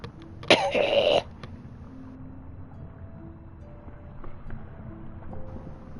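One harsh, loud cough bursts out near the start after smoking weed, then fades to a quiet room with faint background sounds.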